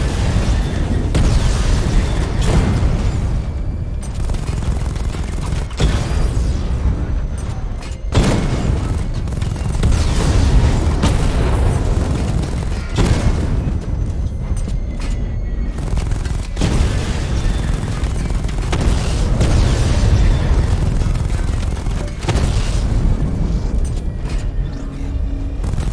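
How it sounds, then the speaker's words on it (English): Missile barrage explosions in the Batman Arkham video game, a dense, continuous series of loud booms and blasts rolling over each other for the whole stretch, with repeated heavier impacts punctuating the roar. "Missile barrage level 1 ready."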